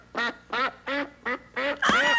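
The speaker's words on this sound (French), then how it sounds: "C'est un canard." A duck quacks six times in a steady rhythm, loud and close, each call a short nasal honk.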